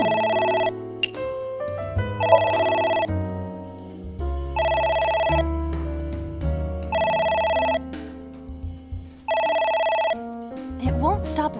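A telephone rings in the AI: The Somnium Files video game, repeated electronic ringing bursts in a steady pattern of about five rings over low music, with a voice speaking between them.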